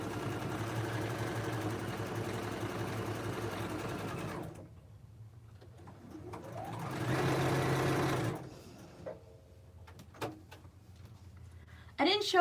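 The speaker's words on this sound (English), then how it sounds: "then I'll just sew this one" Sewing machine stitching a quilt block, a steady close mechanical whir for several seconds, then a shorter second run of stitching followed by a few faint clicks and handling noises.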